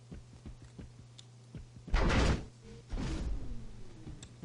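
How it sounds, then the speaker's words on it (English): Door-opening sound effect played back in a game level editor: a rushing, sliding whoosh lasting about a second, then a second heavier burst as the door reaches its open position, over a low hum and light clicks. "So you can actually hear the playback of the door."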